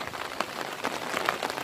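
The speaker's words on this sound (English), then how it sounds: "I am going to go back inside because the rain is starting up again." Rain falls outdoors and patters steadily on nearby surfaces, a dense, even hiss of drops with a few sharper splashes, and no voices.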